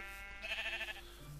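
Sheep bleating in Minecraft, a single short nasal bleat heard faintly over steady game ambience, with no talking.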